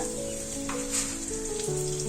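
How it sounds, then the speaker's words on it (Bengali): A dried red chilli and two bay leaves sizzle in hot mustard oil in a kadai, a steady close crackle with brief spits, while faint tonal hums run beneath. "তেলটা গরম হয়ে গেছে, তেলের মধ্যে দেব একটা শুকনো লঙ্কা, দুটো তেজপাতা"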